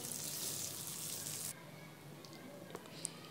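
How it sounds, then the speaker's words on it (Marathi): Stuffed green chillies filled with gram flour frying in hot oil, a steady close sizzle that thins after a moment into quieter crackling with a few small pops. "या मिरच्या आपल्याला 5 मिनिटं चांगल्या प्रकारे तेलामध्ये परतून घ्यायच्या आहे।"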